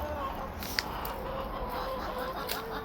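Chickens cluck softly in a backyard food forest of mulberry, jujube and pomegranate trees in Peoria, Arizona, their low calls steady and somewhat distant over faint outdoor background noise.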